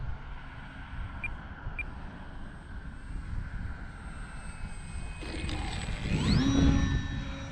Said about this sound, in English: Let's see if we can do a crosswind landing.